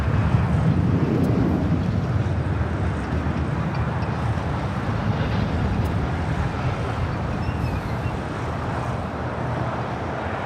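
Airliners take off at Los Angeles International Airport, heard as a broad, sustained jet roar that stays steady and slightly distant for about ten seconds, with no voices over it.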